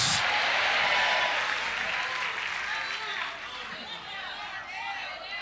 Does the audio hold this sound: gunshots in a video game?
no